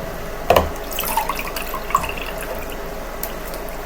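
Water pours from a gallon jug into a container indoors, a steady splashing flow near the mic with a sharper knock and glug near the start and a few small drips along the way, no talk.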